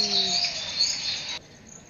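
Morning birds sing among flowers, with clear high chirps and whistled tweets close by over a soft insect-like hiss, then the calls stop abruptly.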